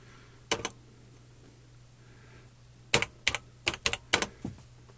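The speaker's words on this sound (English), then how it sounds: "I love the feel of these keyboards." Keys clatter on the keyboard of a vintage 1980s TRS-80 Tandy Model 100 portable computer, a pair of taps then a quick burst of several close, crisp keystrokes over a faint electrical hum.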